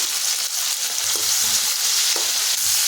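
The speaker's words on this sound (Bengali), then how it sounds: "ভালো করে গরম করে নেওয়ার পর প্রথমে ফুলকপিগুলো ভেজে নিতে হবে" Cauliflower frying with turmeric and salt in two tablespoons of hot oil in a wok, a loud, close, continuous sizzle with occasional stirring scrapes and no talk.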